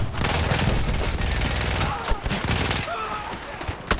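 Rapid SMG bursts in the Battlefield 1 Italian campaign mission Avanti Savoia, loud and dense through the whole stretch with booms and battle noise layered in, and no speech.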